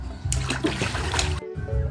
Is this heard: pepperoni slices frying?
no